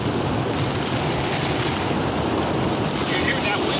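Strong wind roars and buffets continuously around a tent in the Alps during a severe thunderstorm, a broad blustery rush with gusty swells, close and loud.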